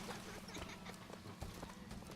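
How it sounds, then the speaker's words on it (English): Mechanical electrical horse hooves clip-clopping in the BioShock Infinite video game, a faint, steady rhythm of hollow hoof strikes over a low ambient hum. "Oh, they don't have horses. They have electrical horses."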